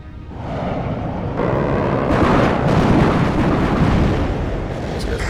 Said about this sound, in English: Let's do a napalm attack.